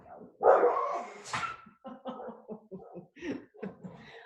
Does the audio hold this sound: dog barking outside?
yes